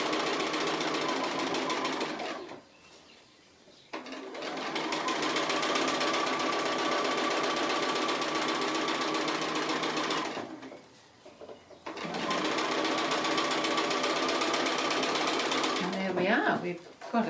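A sewing machine stitches appliqué on a small fabric box top, running in long steady bursts with two short pauses, loud and close, and a brief clatter of handling near the end.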